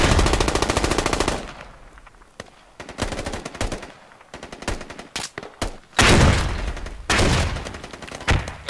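In the military shooter game Squad, loud bursts of machine-gun fire rattle in rapid volleys, broken by short pauses and single sharp shots, close and heavy throughout.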